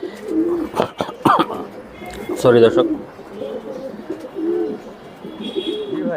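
German shield pigeons in a loft coo in low, rolling bursts beneath close, steady talking by people, with the coos rising and falling throughout.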